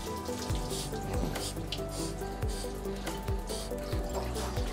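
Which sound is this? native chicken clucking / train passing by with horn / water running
water running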